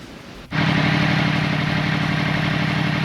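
A 2020 Yamaha MT10 motorcycle starts up and settles into a steady, loud idle, close by and alone, with an even throbbing rumble.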